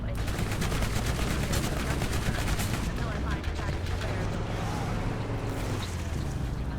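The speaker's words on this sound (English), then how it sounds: "the machine gun's bad in this game" Rapid machine-gun fire from the Borderlands video game, a dense, continuous rattle of shots that runs loud and steady almost the whole time, with a possible voice faint underneath.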